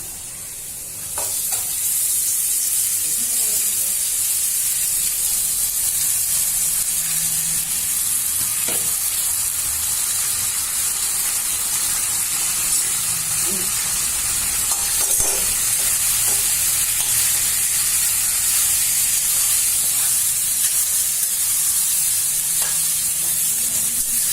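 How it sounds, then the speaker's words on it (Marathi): Sabudana and potatoes fry in a pan with a constant sizzle, while occasional scrapes and clinks from stirring come through up close. "बटाटे लाल झालेत मस्त भिजले आता आपण त्याच्यात साबुदाणे टाकू"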